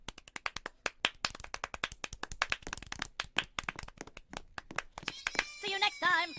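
Sharp hand claps come in quick, uneven bursts, close and fairly quiet, before a short musical flourish in a game sound at the end.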